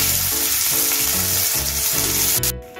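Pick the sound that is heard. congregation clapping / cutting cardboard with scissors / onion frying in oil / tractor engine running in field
onion frying in oil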